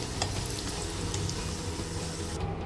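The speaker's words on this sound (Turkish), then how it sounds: "Şu şekilde diğer tarafını kızartıyoruz." Steady oil sizzle and crackle from chicken pastry frying in a pan, close and continuous, with faint clinks near the end.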